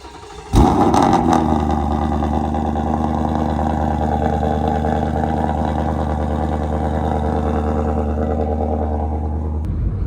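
A loud straight-piped Ford Mustang GT 5.0 V8 engine cranks and fires up from a warm start, then settles into a deep, rumbling, lopey idle that continues steadily.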